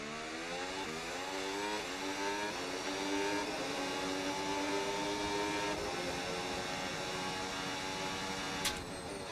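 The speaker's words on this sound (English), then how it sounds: "It honestly kind of sounds like a Honda engine." A Red Bull Formula 1 car engine in an F1 video game whines at high revs, rising through several gear changes and holding a steady, buzzing tone with a brief click near the end.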